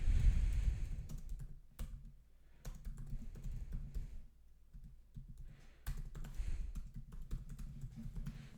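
Typing on a computer keyboard while counting cards for a D/D/D Endymion Yu-Gi-Oh! deck, a steady patter of soft key clicks in uneven bursts with short pauses, close by and alone.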